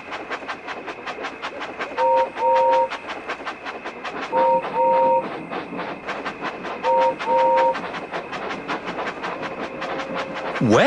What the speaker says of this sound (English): Trembling tracks. Your engine loves your train set.